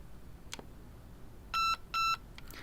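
Two short electronic beeps in quick succession from an INF M4 airsoft gun's electronic trigger confirming a setting, clear and fairly close, over faint background noise with a couple of small clicks.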